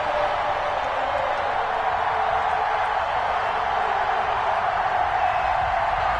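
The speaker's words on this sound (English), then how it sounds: "This crowd is ready" A stadium crowd in an EA Sports Madden American football video game produces a dense, steady roar of massed voices at a constant loud level, without distinct cheers or breaks.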